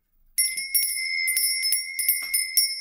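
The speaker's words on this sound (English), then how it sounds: "let me do my bell first, one sec." A bicycle-style bell rings in a quick series of bright, repeated dings, close and clear with nothing else around it.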